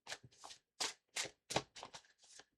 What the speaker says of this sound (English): give the cards a good shuffle here